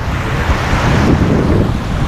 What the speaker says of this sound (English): The ocean's kind of angry today.